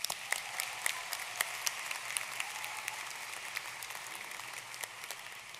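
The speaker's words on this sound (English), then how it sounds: "So let's please have a round of applause for your parents and your family members." Graduation audience in a convention hall applauding for families, a steady wash of many hands clapping at a moderate distance, fairly quiet and even throughout without speech.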